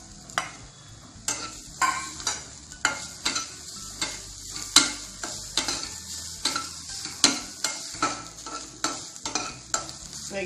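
Onion, garlic, curry leaves, cumin and grated coconut roast in a pan for a South Indian curry, a spoon scraping and clacking against the metal in a regular rhythm over a low sizzle.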